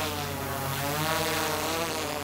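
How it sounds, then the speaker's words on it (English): A drone flies over a field during an elk hunt, giving off a steady, even propeller buzz that stays constant throughout with no talk. "Let's go ahead and get the drone up"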